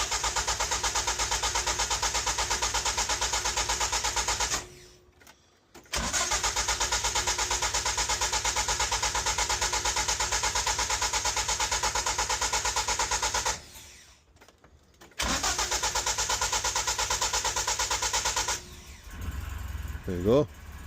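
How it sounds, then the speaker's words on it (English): A classic Ford pickup engine running with a steady close idle, cutting out briefly twice and restarting, followed by someone speaking near the end. "I'll just let the pickup run up for a minute or two."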